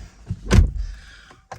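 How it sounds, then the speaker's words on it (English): A 2021 Mercedes GLC 300d door shuts with a single heavy thud close by, followed by faint interior rustling and a short click at the end. "And we'll close the door."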